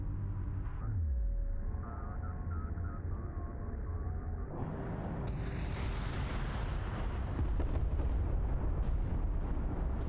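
Air strike explosions land in the Homeworld: Deserts of Kharak strategy game, with deep booming rumbles and a heavy blast that swells into sustained roaring debris noise, loud and close.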